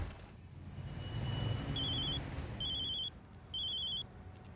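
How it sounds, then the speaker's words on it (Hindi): Mobile phone rings inside a moving taxi in Mumbai, an electronic ringtone sounding in short repeated bursts over the low rumble of road noise and engine. "लो आ गया फिर से डीएसपी सर का फोन।"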